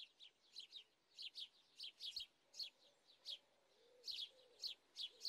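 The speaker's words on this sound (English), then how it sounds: "Not my imagination, I do hear birds." Birdsong in the Roblox game Space Sailors: repeated short, high chirps in an even rhythm, fairly faint, alongside a low soft cooing, with no speech.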